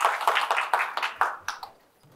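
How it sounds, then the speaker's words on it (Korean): An audience claps briefly to welcome a guest lecturer at a public science talk in Daejeon, a short ragged burst of hand claps that thins out and fades within a couple of seconds. "박수로 맞이해주세요"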